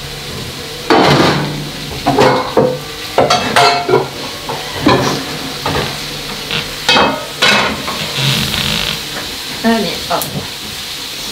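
Vegetables and brochette skewers sizzle and fry in a pan in a home kitchen, with repeated stirring scrapes and utensil clatter over a steady hiss, while a voice speaks briefly.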